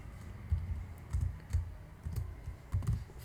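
Typing on a computer keyboard while working through JavaScript string code, heard as a few separate bursts of clicks about a second apart, close and fairly quiet with no talking.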